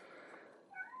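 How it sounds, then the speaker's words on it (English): A house cat meowing faintly in the background indoors, a soft drawn-out call followed by a short rising meow near the end, quiet and distant. "And my cat's meowing in the background."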